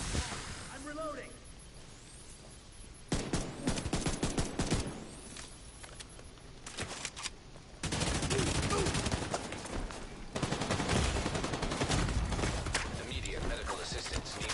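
Gunfire in The Division 2 rattles in dense automatic bursts and fusillades, loud and close. Quieter stretches come between the bursts, and voices talk underneath.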